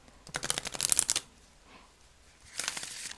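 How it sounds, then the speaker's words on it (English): A tarot deck with sturdy non-plastic cards is riffle shuffled twice, each a quick crisp burst of fluttering card snaps separated by a short pause. "At least the riffle shuffle."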